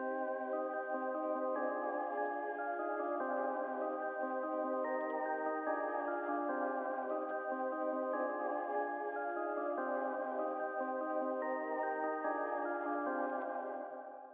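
A looping synth melody over sustained chords in a rage-style beat, steady and moderately loud, repeating in a regular pattern with faint high percussive ticks.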